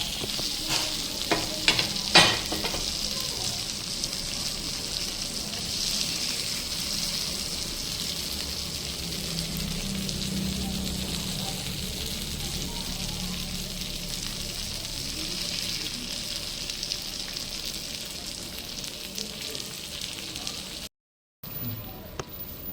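Fish fries in a pan, giving a steady close sizzle and crackle throughout. A few sharp clatters come early and there is a brief dropout near the end.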